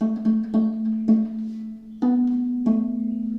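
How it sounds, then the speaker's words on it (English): Bright plucked harp notes played with a xylophonic effect, giving a dry, damped, xylophone-like attack, in a slow sequence of separate strikes with short ringing tails. "I really wanted to play them with the xylophonic effect so that they would sound like this"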